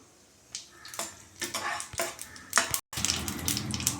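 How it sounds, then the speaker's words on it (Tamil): Mustard seeds and urad dal lentils sizzle and crackle in hot oil in a pan, with a spoon stirring and clinking against the pan in irregular bursts. "அடுப்பில் ஒரு பேன் வச்சு கொஞ்சம் எண்ணெய் ஊற்றிருக்கிறேன் அதில் ஒரு ஸ்பூன் கலந்த கடுகு உளுந்து பருப்பு போட்டுடலாம்"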